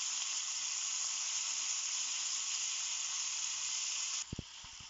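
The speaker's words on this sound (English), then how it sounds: "we need to add tomato pieces" Tomato pieces hiss and sizzle in hot oil with mustard seeds for Mysore rasam, a loud, even, continuous frying noise that ends abruptly with a couple of soft knocks near the end.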